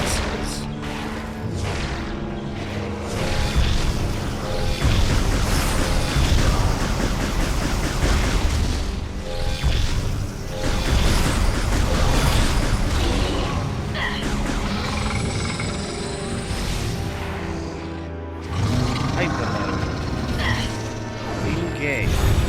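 Missiles fired at a boss in Metroid Prime 3, a dense, continuous barrage of booming blasts and crashing impacts layered over game music and effects, loud and sustained, with a voice talking over it.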